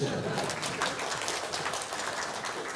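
A conference audience applauds at a Japanese tech talk, a dense, steady, moderately distant wash of many hands clapping that continues throughout.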